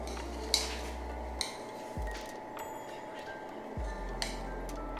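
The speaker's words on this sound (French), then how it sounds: "Ensuite on mélange." Scone batter being stirred in a bowl just after vanilla is added, giving scattered clinks and scrapes of a utensil against the dish, fairly quiet, with no talking.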